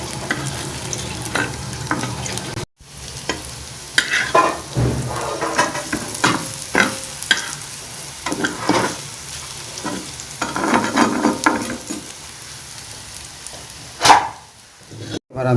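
Prawn fritters (chingri bora) fry in oil in a pan with continuous bubbling sizzle and repeated clattering stirs and scrapes, one brief silent gap early on, a dog barking faintly in the background.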